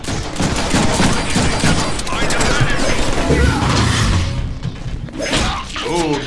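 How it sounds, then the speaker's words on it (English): Shootout in the Deadpool video game with dense, rapid gunfire bursts layered with whooshes and crashing impacts, loud and continuous for the whole stretch. "Whoever's shooting at me, I will shoot back at you."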